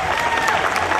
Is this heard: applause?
yes